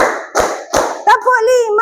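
A group claps a counted rhythm, three sharp hand claps in even succession before a voice speaks over the close, loud sound.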